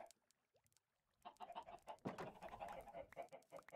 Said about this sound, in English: Chickens are doing really well.